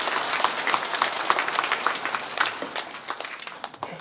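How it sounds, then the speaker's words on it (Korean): A church congregation claps during a Sunday service, dense, steady applause filling the room with sharp overlapping hand claps, moderately loud and continuing throughout with no voices. "박수 조금 더 크게 해주시면 좋겠습니다."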